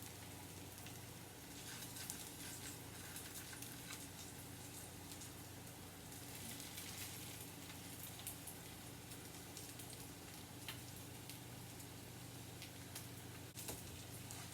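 Chicken croquettes sizzle in hot frying oil, a steady dense crackle and hiss like light rain, with scattered sharper pops, close and fairly quiet, and no talking.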